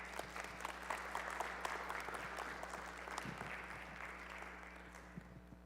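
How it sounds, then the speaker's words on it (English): Steady applause from an audience fills the whole stretch, a dense wash of clapping at even loudness with no voices over it. "Can we give another round of applause?"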